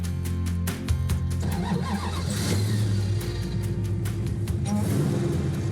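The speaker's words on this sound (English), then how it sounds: "getting ready to take out the Superbird with the Hellcat engine for the first time. Let's give it a start" A Plymouth Superbird with a supercharged Hellcat engine cranks and catches, then runs with a loud, rumbling idle and some revving, close by.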